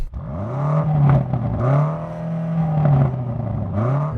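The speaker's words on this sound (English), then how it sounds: "What is the world coming to when even BMW has a soft limiter?" A BMW M8 engine revs repeatedly up to a soft limiter around 4,500 rpm, each rise holding a buzzing pitch before dropping back, several cycles in a row, close and loud.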